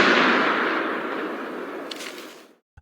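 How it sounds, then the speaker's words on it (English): A gunshot sound effect: a single loud blast of broadband noise whose reverberant tail fades over about two seconds, then cuts off abruptly, followed by a small click. "The sound of the gunshot echoed through their home."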